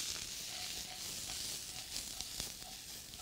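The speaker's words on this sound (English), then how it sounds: "We wanna cook these vegetables down." Bell pepper, celery and onion cooking down in a pan for jambalaya, giving a faint, steady sizzle and hiss with a few soft clicks, quiet and close with no voices.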